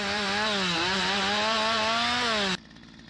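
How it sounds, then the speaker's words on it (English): A chainsaw in the video game Lumberjack Simulator runs loud and steady, its engine pitch wavering slightly as it cuts a tree, then stops abruptly near the end, leaving faint background hum. "Switch tool to chainsaw and cut 3 trees ahead."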